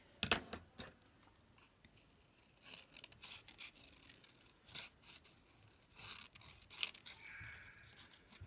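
Scissors snipping paper for a handmade journal in a quiet room: scattered, faint cuts and rustles with irregular pauses between them.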